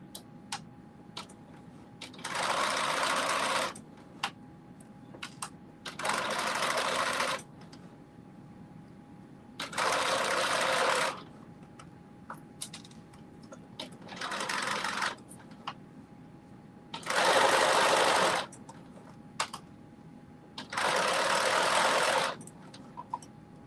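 A home sewing machine stitching a gathered seam on a Simplicity 8424 garment, running in about six steady whirring bursts of a few seconds each, separated by quiet pauses with faint clicks and handling noises.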